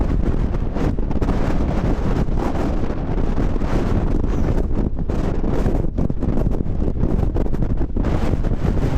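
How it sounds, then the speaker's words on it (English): Strong wind batters a wild camp in the Lake District, roaring and buffeting the microphone in loud, unbroken gusts with no voices. "Absolutely crazy that wind."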